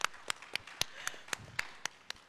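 A church congregation claps at a Sunday worship service, heard as a faint, steady series of about ten evenly spaced sharp claps, distant and sparse rather than a full applause.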